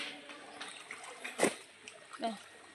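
Water splashes as a child is bathed in a cold river, a few soft dousing bursts, one stronger, with adults talking close by throughout.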